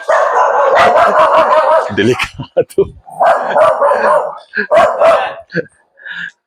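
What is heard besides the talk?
dogs barking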